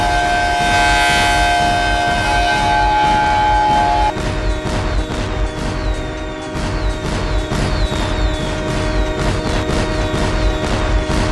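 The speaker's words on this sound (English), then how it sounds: "heard the horns and sirens and saw the fireworks outside" Loud wailing sirens blare together with horns outdoors, a sustained rising-and-falling howl with a steady pulsing beat underneath that runs without a break.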